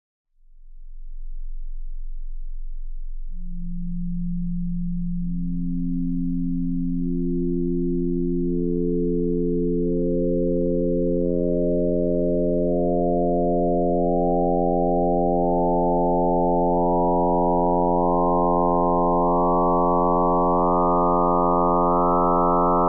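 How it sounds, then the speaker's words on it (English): A sustained note from a 16-sine-wave additive synthesizer built from stacked sine-wave harmonics, with pure tones entering one after another as levels are raised, steadily rising and thickening into a bright, humming chord. "you'll be able to hear the effect the frequency of the sine waves have on the overall sound"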